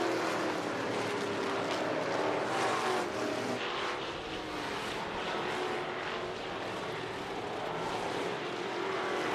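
Race cars circle a short speedway oval at Clarksville Speedway, a steady roar of engines passing continuously at moderate distance with no talk.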